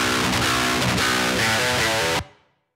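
Electric guitar played through a Helix Native amp plugin with no cabinet loaded, a buzzy, fizzy distorted tone chugging through a short riff of changing notes, then cut off abruptly with a brief fading tail.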